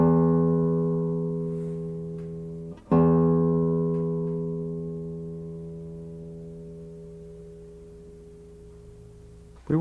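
A sustained reference tone for a classical guitar's low E string rings with rich harmonics and slowly decays, restarting once midway and again at the end, alone and clear.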